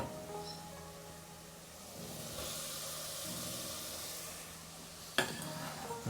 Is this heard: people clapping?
no